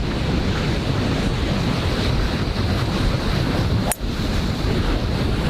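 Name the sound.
ocean waves crashing on a golf course shore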